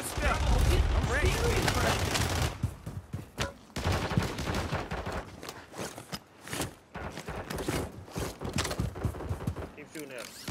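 Gunfire in a Call of Duty video game, bursts of rapid shots and sharp cracks coming in clusters, loud at the start then choppier, with voices talking over the fight.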